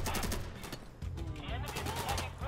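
Rapid gunfire from the tactical shooter Insurgency, a dense burst of close, loud automatic shots crackling over a low rumble for the whole brief moment.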